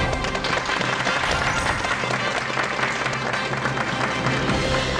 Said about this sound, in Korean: 여러분 박수로 환영해 주십시오.